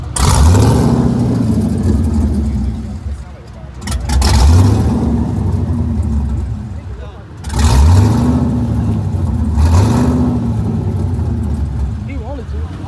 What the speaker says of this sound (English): You got an LS engine in it.